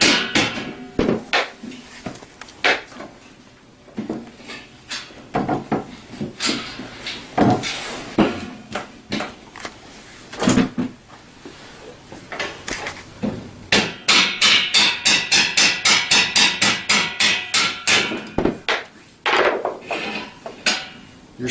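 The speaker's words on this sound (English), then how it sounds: "You might need a hammer to tap it off. Use rubber mallets here" Rubber mallet knocking a bolt loose on a Tao Tao CY50A scooter during assembly: irregular sharp taps early on, then a long fast run of rapid repeated strikes, close and fairly loud.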